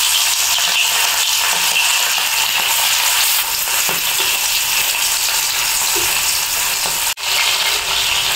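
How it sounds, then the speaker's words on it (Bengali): Salted, turmeric-rubbed hilsa fish tails frying in hot oil, giving a continuous loud close-up sizzle with fine crackling and one brief break near the end. "লবণ হলুদ মেখে রাখা মাছের লেজাগুলো তেলের ভিতরে দিয়ে দিব"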